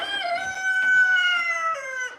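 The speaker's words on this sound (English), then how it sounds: "Rooster." A rooster lets out a single loud, close crow of about two seconds, clear and alone with no talk over it.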